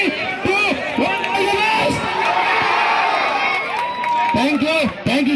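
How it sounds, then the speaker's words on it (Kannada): A crowd cheers and shouts loudly and continuously at a live dance event for a film team, with children's shrieks rising and falling throughout and sparse clapping mixed into the roar. "ಜೋರಾಗ ಚಪ್ಪಾಳೆ ಬರ್ಲಿ"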